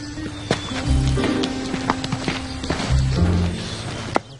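Horse hooves clip-clop nearby in an uneven walking rhythm, with occasional snorting and scattered taps of movement.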